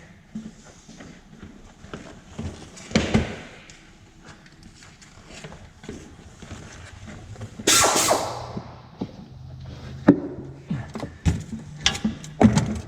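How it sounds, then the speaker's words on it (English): An air ratchet working loose the oil pan bolts on a car in a garage, heard as a few short mechanical whirring bursts among clanks, tool handling and footsteps. "Get the air ratchet here."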